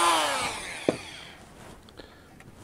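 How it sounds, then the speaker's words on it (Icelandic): A power drill runs briefly while screws are driven into a Kwik-fli Mk III model aircraft. A short whirring burst fades out, followed by a few quiet clicks and taps nearby. "Svo bora ég aðra."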